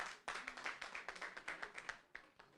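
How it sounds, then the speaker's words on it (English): A round of applause at the closing session of a Lagos summer school in digital humanities: dense, fairly faint clapping from an audience, steady for a couple of seconds with a brief dip near the end. "A round of applause for."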